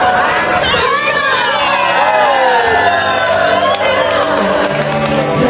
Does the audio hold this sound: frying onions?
no